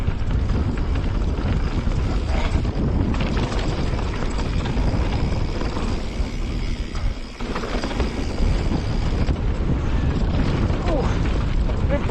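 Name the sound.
wind blowing while riding an e-bike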